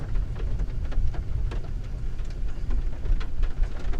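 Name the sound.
thunder during rain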